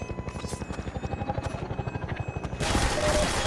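Helicopter gunship in Half-Life 2 strafing with rapid machine-gun fire: a fast, steady rattle of shots over rotor drone, ending in a loud, dense burst of gunfire and explosion-like noise.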